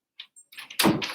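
A house door opening to let a dog out, with a few soft taps and clicks followed by a louder close thump and rustling, heard nearby without any talk.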